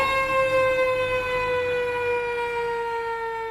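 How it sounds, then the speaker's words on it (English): A steady siren wail holds one high tone with clear overtones, sounding loud and continuous with no voices. "When a fire truck blares its siren"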